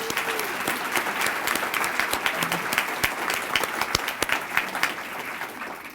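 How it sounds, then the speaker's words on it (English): An audience at a Teacher of the Year event breaks into loud, sustained applause, a dense, steady clatter of many hands clapping throughout. "she deserves a round of applause."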